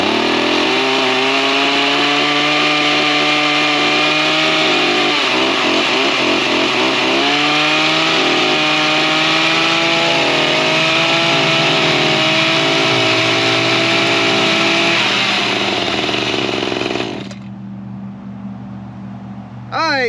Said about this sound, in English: now that we got the big Maruyama BH24G hedge trimmer fired up